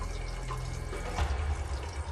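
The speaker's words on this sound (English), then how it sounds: "I hear water running." Water runs from a bathroom tap in a steady, close splashing stream, with a low background hum underneath and no voices.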